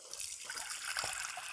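Water pours into a small pot on a kitchen counter as a bain-marie is set up for melting chocolate, a soft steady trickle and splash lasting under two seconds, fairly faint, with no talking.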